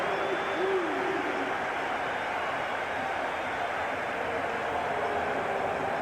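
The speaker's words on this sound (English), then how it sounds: "the crowd roars their approval" Roaring stadium crowd at an NFL football game between the New York Giants and Philadelphia Eagles in Philadelphia, 1980, a steady, dense wall of cheering that holds evenly throughout without breaks.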